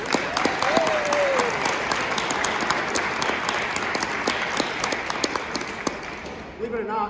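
Sustained audience applause after a school baroque ensemble's performance of a Vivaldi double violin concerto, dense clapping filling the room for several seconds, with a brief whoop near the start before it fades out.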